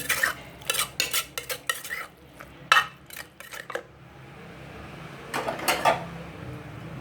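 A spoon scoops Thai mackerel chili dip (pon pla too) into a bowl, giving a run of close, quick scraping clinks against the dish, a pause, then a few more scoops over faint background noise.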